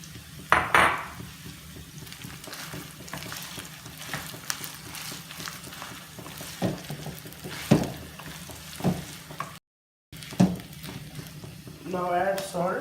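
A spoon scrapes and clatters in a frying pan while golden-brown onions and mashed potatoes are stirred together, with quiet sizzling underneath and a few sharper knocks against the pan.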